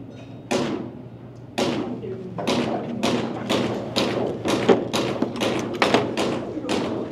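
Rapid shots from a VFC TTI Glock 45-based airsoft pistol, about a dozen sharp, close cracks fired in a quickening string, each with a short tail, unaccompanied by speech.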